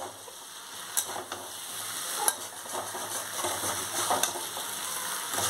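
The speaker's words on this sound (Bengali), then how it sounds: "সবজিটা আমার ভাজা হয়ে এসছে মশলার সঙ্গে ভালো করে।" Vegetables and prawns cooking with spices give a soft, steady sizzle in a pan, with a few light spoon taps and scrapes, close and quiet.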